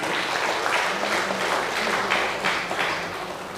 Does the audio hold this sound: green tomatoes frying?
no